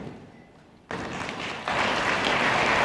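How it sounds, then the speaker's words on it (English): Applause from a conference audience at an opening ceremony, starting quietly and then swelling in two steps into a steady, full round of clapping. "A round of warm applause for Mr. Gilles Frank."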